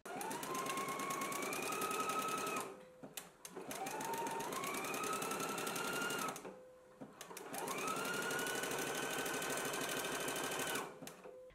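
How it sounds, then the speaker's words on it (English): Sewing machine stitching a 5/8 inch seam joining the side back pieces of a garment, three long steady runs of motor whir with rising pitch at each start, separated by brief stops, close and clear. "we can go ahead and stitch it in a 5/8 of an inch seam allowance"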